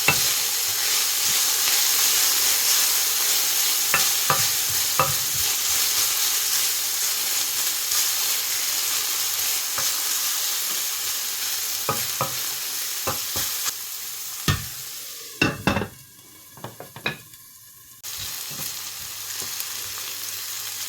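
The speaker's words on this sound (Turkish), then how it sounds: "şöyle arada bir karıştırıyoruz." Peppers and tomatoes for onionless menemen sizzling in a pan, a continuous frying hiss broken by occasional scraping stirs and clinks, with a louder clatter of the spoon near the end.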